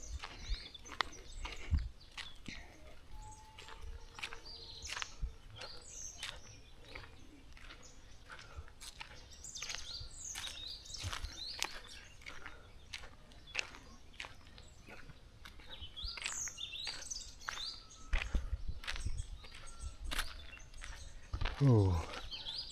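Birds chirp and tweet on and off around a village market area in Africa, fairly faint over a steady outdoor murmur with scattered bumps and handling noise nearby.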